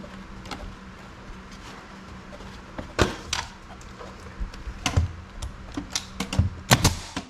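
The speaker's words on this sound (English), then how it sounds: "Keep your fingers back from the brad nailer. We're just using 1-inch brad nails." A brad nailer drives 1-inch brad nails into a wooden picket planter, firing sharp, isolated snaps that come at irregular intervals over a quiet room tone, clustering more densely toward the end.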